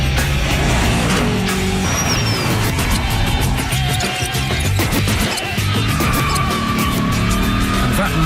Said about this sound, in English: That big, mean-sounding V8 roar. A trademark of the car. You know, that sound, that exhaust noise,